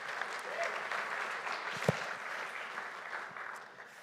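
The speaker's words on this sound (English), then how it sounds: "if you're going to applaud anyone, you should always applaud the church treasurer" A church congregation applauds the treasurer during a Sunday evening service, giving steady, moderately loud clapping that carries on evenly for several seconds and fades slightly at the end.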